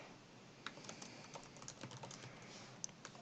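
Code is typed on a computer keyboard while a Flask web app with SQLAlchemy is being written: faint, irregular clicks and taps in quick clusters, close by, with no talking.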